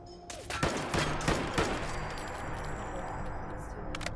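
Suppressed gunfire in Fallout 4, with a series of sharp muffled pops in quick, uneven bursts over a noisy ambient background, fairly close.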